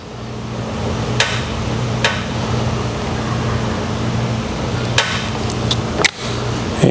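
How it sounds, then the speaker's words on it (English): A torque wrench exercised in a load cell gives a few sharp, separate clicks over a steady low hum from the test equipment. "I'm going to start by exercising the wrench in our load cell approximately up to full scale."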